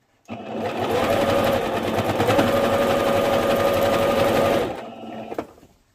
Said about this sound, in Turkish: Lastiğin tam ortasından yine aynı şekilde çektirerek dikiyorum.